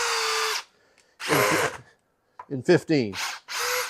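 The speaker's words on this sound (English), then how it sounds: "No, I can drive that as deep as I want to" A DeWalt drill driver drives 3-inch deck screws into wood in two loud, steady whirring bursts, separated by a short pause. Someone speaks briefly between and after the runs.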